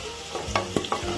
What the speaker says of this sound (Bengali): আলুটাও নাড়াচাড়া করে লাল করে ভেজে নেব